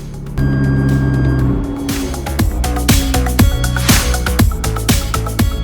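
A McLaren 600LT pulls in with a loud, steady engine drone that shifts and steps down through pulsing gear changes. No voices are heard over it.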